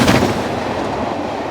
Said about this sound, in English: The steam train passed through the former Carverley and Rodley station on Carverley Lane.